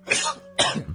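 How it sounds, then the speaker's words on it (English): Two sharp coughs from a single nearby adult, the first longer and rougher and the second following after a short gap, both loud and close to the mic with no talking in between. "Pardon me, coughing."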